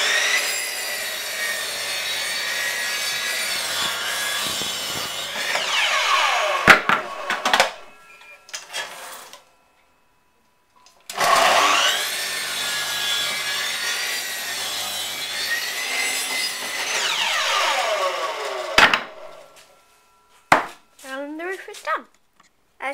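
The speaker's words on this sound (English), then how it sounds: "my dad is going to cut the roof." A hand saw cuts wood for a bird box roof in two long runs of loud, close rhythmic rasping strokes, separated by a quiet gap and ending with a few clunks.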